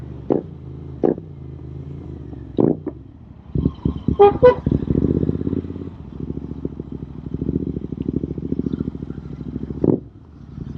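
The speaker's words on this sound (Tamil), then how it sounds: "ஸோ இப்போ நம்ம போயிட்டு இருக்கிறோம் ஸோ சிட்டிக்குள்ளே தான் ஓட்டுறோம்" A Royal Enfield Interceptor motorcycle rides through city traffic, its engine thrumming steadily while car horns toot several times nearby and other vehicles pass.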